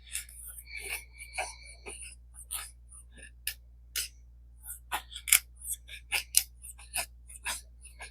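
A Firecraft No5 Nedfoss 16-inch survival machete shaves curls from an older piece of pine in a series of sharp, close scraping cuts and clicks, irregular strokes separated by brief pauses.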